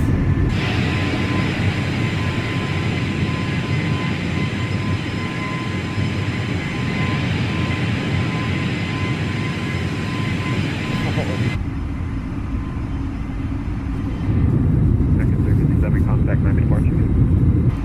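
Airbus A320neo engines roaring during takeoff in Microsoft Flight Simulator 2020, a loud steady rumble and whine that shifts midway, with cockpit callouts spoken over it.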